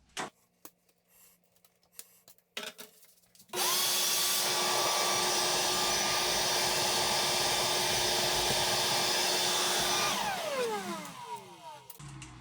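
A vacuum cleaner switches on and runs with a loud, steady whine, cleaning the filter taken out of an LG portable air conditioner. It winds down near the end, and a few clicks and handling knocks come before it starts.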